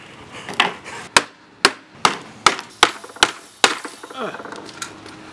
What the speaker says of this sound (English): Any Joe Blow can run this hammer.